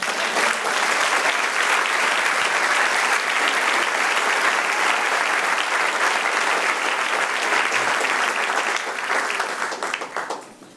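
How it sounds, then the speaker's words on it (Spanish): Sustained applause from a church congregation fills the space for about nine seconds, loud and dense, then tapers off near the end. "Den un aplauso al Señor."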